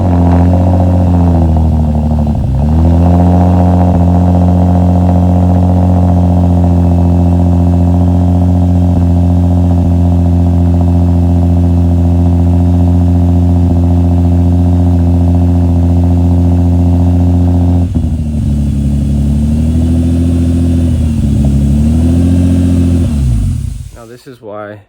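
A Lexus IS engine fires up after a spark plug replacement and idles loud and close with a steady harmonic drone, dipping briefly near the start and again later before cutting off at the end, with someone speaking over it.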